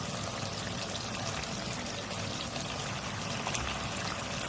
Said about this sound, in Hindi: ½ कप पानी डाल दूँ इसमें